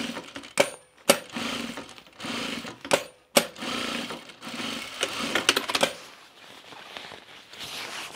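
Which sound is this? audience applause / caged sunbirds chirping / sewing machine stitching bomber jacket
sewing machine stitching bomber jacket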